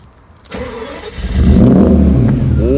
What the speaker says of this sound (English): Cold start. It started.